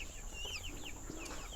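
Local farm chickens cluck and chirp softly at a distance, with short high calls over a faint steady background hum.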